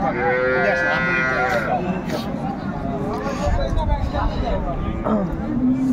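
A dairy cow at a busy cattle market lows loudly and at length, with a wavering drawn-out call over the crowd's chatter and people talking nearby.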